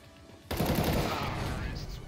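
Sudden loud burst of gunfire in the shooter game CS:GO, a dense rapid volley starting abruptly after a quiet moment and sustained to the end, with a headshot landed.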